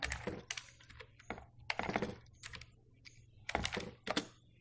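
Python code is typed on a computer keyboard in short bursts of close, crisp key clacks separated by pauses.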